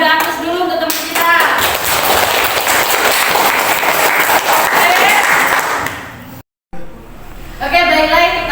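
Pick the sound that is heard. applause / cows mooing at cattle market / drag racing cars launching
applause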